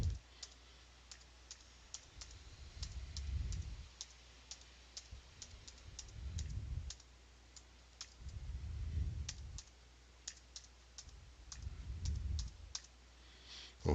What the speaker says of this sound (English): So I will now type in my email address.